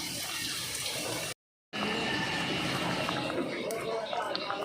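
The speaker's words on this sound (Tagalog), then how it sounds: "dagdagan ko pa ito mga 1 tasang tubig pa." About a cup of water pours into a pot of sautéed mung beans in a steady close splashing rush that breaks off briefly partway through and then resumes.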